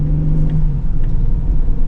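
A 4.3-litre V6 in a 2026 Chevy Express passenger van pulls under load with a steady, loud, close low engine rumble and a droning hum throughout, with no speech over it.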